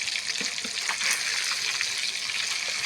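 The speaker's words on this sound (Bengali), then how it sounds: "মাছটা ভেজে নিব আগে" Hilsa fish fries in hot oil, giving a dense, continuous hiss of sizzling that stays loud and close throughout with small crackling pops.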